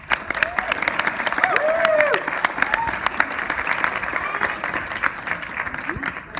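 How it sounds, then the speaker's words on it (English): Wedding-party audience applauding and cheering, with dense sustained clapping through the whole stretch, a few shouted whoops and voices in the crowd, fairly close and loud. "And how about a round of applause?"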